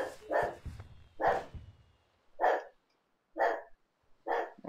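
A dog barks in a steady series of five loud single woofs spaced about a second apart, heard near and clear with no talk over it.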